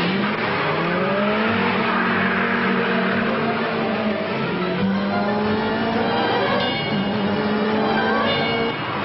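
A Mercedes 2.5-litre 16-valve and a BMW M3 Evolution race at Montlhéry, engines roaring continuously and loudly with rising and falling revs as the cars push hard through the circuit.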